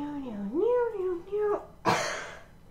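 A voice hums with a rising and falling pitch, then one short, rough cough-like burst follows, close and fairly loud.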